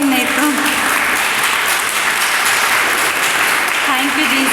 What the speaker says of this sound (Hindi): किसी को अगर समझ में आया तो हम जोरदार तालियां देंगे